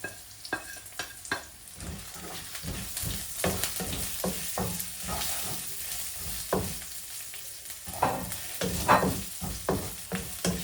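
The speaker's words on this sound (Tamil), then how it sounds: "பெரிய சீரகத்தை முதல்ல போட்டுட்டு கருவேப்பிலையும் போட்டுட்டு சின்ன சீரகத்தையும்" Cumin seeds and curry leaves crackle and sizzle in hot oil at the start of a Batticaloa-style tinned fish gravy, with a steady fry broken by frequent sharp stirring scrapes and pops, close and alone.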